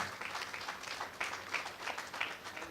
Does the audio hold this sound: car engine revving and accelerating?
no